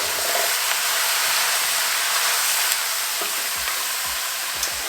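Vegetables stir-frying in a pan with sauce give a steady, loud broadband sizzle and hiss, with occasional stirring scrapes and clinks, no talking.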